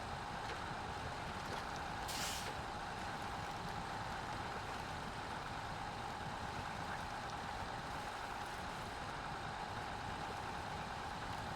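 A small Voron truck driving in the SnowRunner video game: a steady, continuous engine drone with a constant low rumble, unchanging throughout and fairly quiet.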